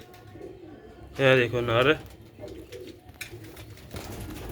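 Sialkoti silver pigeons with their young cooing close by in a loft, a loud rolling coo of about a second standing out over background rustling, with a voice talking briefly.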